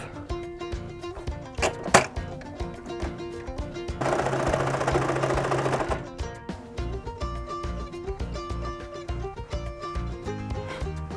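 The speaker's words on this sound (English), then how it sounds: "you just tuck in the loose ends and top stitch over it" A sewing machine top-stitches the folded edge of fleece bunny ears for a hoodie, a steady two-second whirring run over background music with light taps around it.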